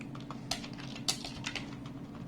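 Code being typed on a computer keyboard during a Python programming lesson, with irregular light key clicks and a few sharper taps, close and moderately quiet, with no talking.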